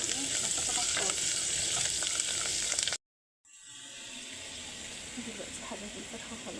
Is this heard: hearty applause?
no